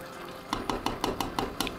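A spoon stirs a simmering pot of spinach stew with fish, making about seven evenly spaced scraping clacks against the pot, close and fairly quiet, with no talking.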